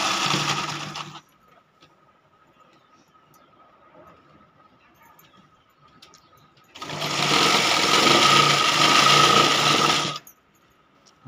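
Sewing machine stitching a border onto an eight-by-six-foot quilt made from old clothes: a loud, close, steady mechanical whir that cuts off after a second, leaves a quiet pause with a faint hum, then runs continuously again for several seconds.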